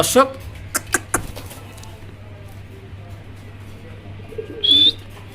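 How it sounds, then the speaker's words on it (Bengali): Pigeons at a fancy racing pigeon market give a few short coos and calls, with a brief burst near the start and another near the end, amid indistinct voices and background noise. "একেবারে সুস্থ সবল কবুতর আছে।"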